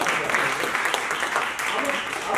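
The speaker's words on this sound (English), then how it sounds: "Y'all clap it up for yourselves" A workshop crowd claps at a writing event, a fairly even wash of hands through the whole stretch, moderately loud, with voices mixed in over the clapping.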